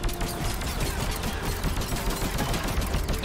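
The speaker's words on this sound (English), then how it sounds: "we gotta keep on shooting at it" Sustained gunfire in the shooter Mass Effect 3: dense, continuous bursts of rapid weapon fire and impacts at steady, loud volume, filling the whole stretch with no voices heard.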